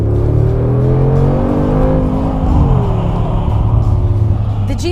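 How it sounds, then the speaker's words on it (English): A Mercedes G63 with a 4-liter V8 biturbo engine of 585 horsepower accelerates, heard from inside the car: a steady, loud engine drone with rising and shifting tones throughout. "This one offers a 4-liter V8 biturbo engine offering 585 horsepower, which sounds great even from inside the car."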